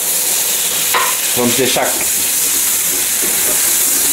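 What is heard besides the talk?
mushrooms frying in a pan with white wine added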